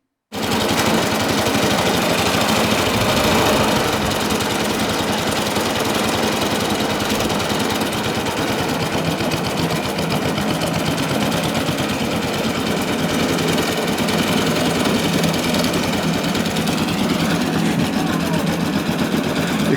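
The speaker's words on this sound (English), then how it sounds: "I've had this old Suffolk lawnmower for many years." An old Suffolk lawnmower engine chugs steadily and loudly for a long stretch, a rapid knocking rhythm that never lets up.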